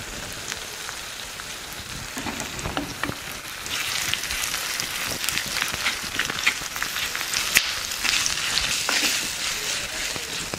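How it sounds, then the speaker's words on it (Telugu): Onion pieces fry in a pan with turmeric and salt for a tomato and sesame kurma, giving a steady, dense crackling sizzle that holds throughout with no talk. "ఉల్లిపాయ ముక్కల్ని కొంచెంసేపు బాగా వేగనిద్దాం"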